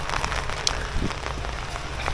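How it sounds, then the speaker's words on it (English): Rain pattering steadily onto umbrellas during a hike in the Engadin valley, a dense, close, continuous patter with no voices. "Let's walk a bit in the rain."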